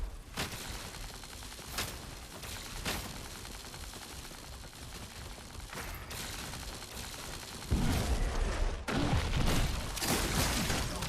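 Shotgun blasts in a video game, several sharp reports spaced a second or so apart over a steady background of game noise and mechanical clatter, ending in a louder burst of shots.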